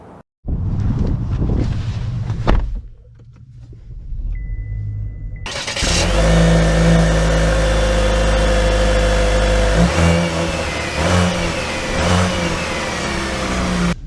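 A 2023 Chevy Blazer Premier starts up and its engine revs and accelerates, a loud close mid-pitched roar that rises and holds with wind noise, no talking.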